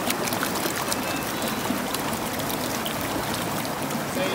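Gravel is panned for gemstones in a water-filled sieve, giving a steady close splashing and trickling wash of water over stones throughout, with no talking.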